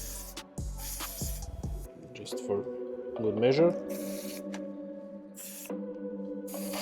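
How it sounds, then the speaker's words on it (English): Brief hiss of contact cleaner sprayed onto car seat wiring connectors during an airbag warning repair on a Renault, heard in short bursts beneath a man's speech. "Now I'm going to clean all the connectors with contact spray"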